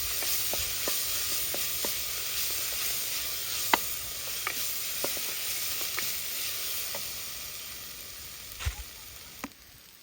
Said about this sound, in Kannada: ಕರಿಬೇವಿನ ಸೊಪ್ಪು ಏನಿದೆ ಅದನ್ನು ಹಾಕ್ತಾ ಇದ್ದೀನಿ